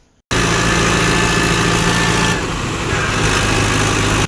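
A loud tractor engine climbing a slope runs hard and steady right up close, its deep rumble straining and holding without any talking.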